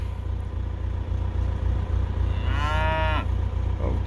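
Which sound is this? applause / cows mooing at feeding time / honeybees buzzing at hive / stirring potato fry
cows mooing at feeding time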